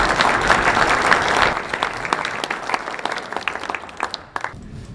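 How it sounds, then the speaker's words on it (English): Applause from luncheon guests, a dense burst of clapping that thins out into scattered claps and fades over a few seconds. "so I'd like to give them all a round of applause."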